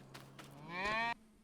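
A single dairy cow mooing in Farming Simulator 25, one drawn-out moo that rises and then stops abruptly, close and clear over a faint low hum.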